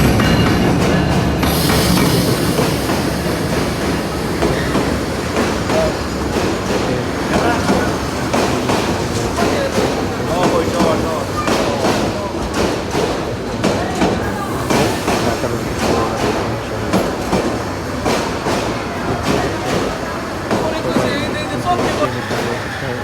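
Turna Express passenger train in Bangladesh on the Chattogram line, heard from inside as a steady, loud rumble with rhythmic rattling and clacking of the carriages running continuously throughout.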